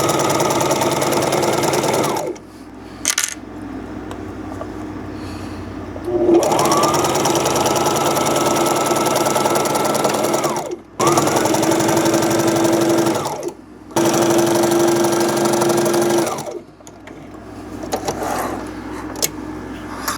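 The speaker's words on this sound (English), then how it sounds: "let's get to sewing the side seams" A sewing machine stitches the side seams of a top in long steady runs of rapid whirring, stopping and restarting several times with short quiet gaps between bursts, loud and close.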